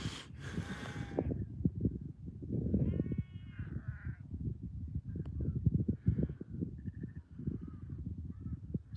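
Sheep bleat faintly at a distance of about 400 yards, a few brief calls rising over a steady low rumble of nearby hoof-like clatter and wind.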